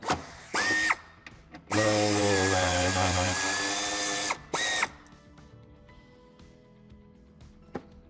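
A power tool loosens a screw on the interior trim of a 2023 Mercedes-Benz GLC Coupé C254. It gives two loud, close bursts of whirring and ratcheting, the second one longer, then quieter clicks and small clatter.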